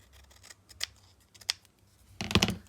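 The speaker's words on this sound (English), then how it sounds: "I would like to just cut this a little bit smaller" Scissors cut a page from an art book in a few quick close snips, ending in a longer crisp cut, quiet and alone.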